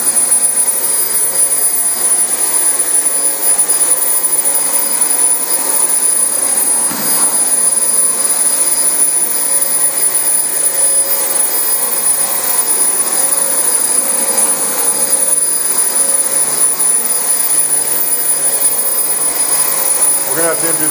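A Dyson DC25 upright vacuum runs loud and steady on a really dirty, matted carpet, a continuous high whine with airy suction roar, briefly shifting in pitch as it moves, with faint talk underneath.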